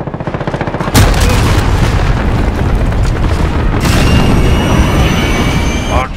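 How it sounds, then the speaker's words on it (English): A loud, close boom from a cruise missile strike in Call of Duty Modern Warfare on the Hackney Yard map hits after a short rumble, followed by sustained roaring debris and rumbling with faint gunfire beneath. "Enemy cruise missile incoming!"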